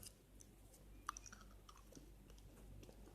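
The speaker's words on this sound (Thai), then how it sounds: "เคี้ยวก็กรึบกรึบนะฮะ กรึบมันถั่วลิสงนะครับ" Close, quiet chewing of Hershey's Mr. Goodbar peanut milk chocolate, with crisp crunches of peanut bits in an irregular rhythm and one sharper snap early on.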